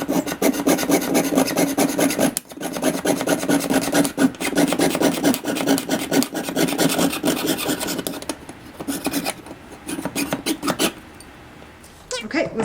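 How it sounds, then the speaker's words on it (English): A fine saw rasps rapidly back and forth through metal in a fast, steady rhythm, close and loud, slowing briefly near the end. "So that is piercing. Same thing as sawing, but to the inside edge."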